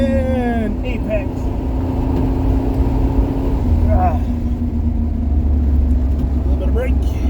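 An old Buick road-racing car has its throttle backed off in second gear into a turn. The close engine drone holds steady with brief pitch sweeps, and someone talks over it throughout.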